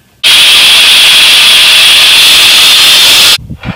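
A power tool trims the side of a custom air intake fitting for a 7.3 Powerstroke diesel, a loud, steady cutting whine running continuously for about three seconds before stopping abruptly.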